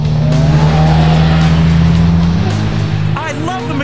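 2019 Polaris Slingshot Grand Touring three-wheeler, its engine and exhaust giving a loud, steady droning note that resonates under the roof, heard from the cockpit with road noise, and a voice speaks briefly near the end.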